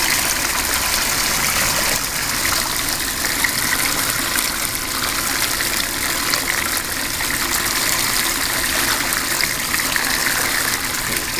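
Gold ore crusher from the Jessie mine running with water, a continuous loud gushing, splashing wash with no breaks or talk.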